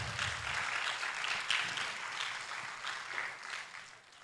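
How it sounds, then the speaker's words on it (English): Quiet, distant applause from an audience after a presentation at a national NGO forum, a soft, even rustle of clapping that fades gradually toward the end. "Another round of applause for Abigail."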